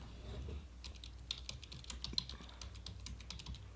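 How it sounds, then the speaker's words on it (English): Quick, light keystrokes on a computer keyboard patter irregularly at close range, fairly faint, with a few sharper key taps and no voices. "So to move my map to Macomb Township, I simply type into the box here"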